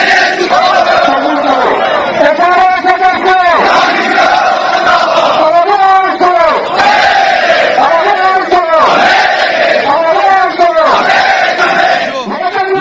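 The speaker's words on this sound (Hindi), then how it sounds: "हजारों की भीड़ सड़कों पर निकली और मांग है" A large protest crowd on the streets of Ladakh demanding full statehood chants slogans in loud, rhythmic call-and-response waves, voices massed and continuous throughout.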